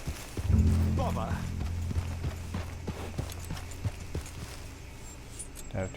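Horse hooves clip-clop in Red Dead Redemption 2, a series of light, evenly spaced hoof strikes at moderate volume, with a low game tone and a spoken voice early on.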